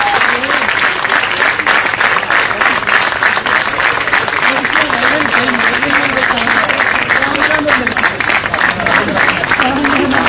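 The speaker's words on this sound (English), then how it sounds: "the President's Gold Medal, with a huge round of applause, is awarded to Madam Sonia Sadaf." Loud, sustained applause from a crowd at a President's Gold Medal award ceremony, dense and continuous throughout, with a voice speaking underneath the clapping.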